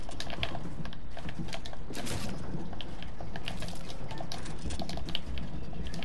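Rapid clicking keystrokes on a computer keyboard, up close and continuous, come from a player during a Fortnite session.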